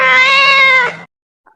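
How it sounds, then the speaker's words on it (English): A single cat meow, clear and close, one drawn-out call of about a second that cuts off into silence. "Cat makes a meow sound."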